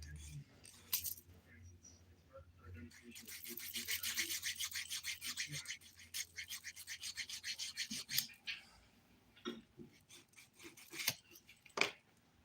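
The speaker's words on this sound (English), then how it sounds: "And we're just filing now." A nail file rasps briskly across a glitter ombré dip powder manicure, close up and fairly quiet, with quick back-and-forth strokes that pause and restart, along with a few light clicks.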